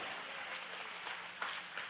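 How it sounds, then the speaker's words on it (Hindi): A church congregation claps in praise during a worship service, a steady wash of many hands filling the room with a few louder bursts near the end, no voices over it. "चलिए यीशु को ताली की भेंट चढ़ाए कोई तो।"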